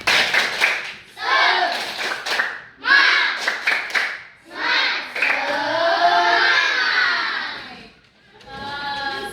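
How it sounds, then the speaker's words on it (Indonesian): Elementary school children at a primary school chant the tepuk semangat clapping routine together, bursts of loud group voices punctuated by sharp rhythmic hand claps. "Sebelum kita pulang semuanya tepuk semangat dulu."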